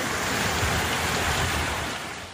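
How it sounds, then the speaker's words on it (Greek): Rushing floodwater pours through streets in Cyprus's mountain areas during a storm, a dense, steady, roaring wash of broadband noise that stays loud throughout and eases slightly at the end. "Ορμητικά νερά έχουν μετατρέψει τους δρόμους σε ποτάμια,"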